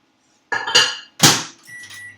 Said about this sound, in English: I'm actually going to pop this in the microwave, warm it up